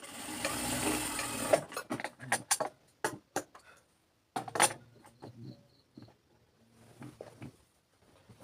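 A domestic sewing machine stitches two ends of elastic together for a pajama waistband, in short bursts of rapid mechanical clatter separated by pauses, with light handling clicks, close and fairly loud.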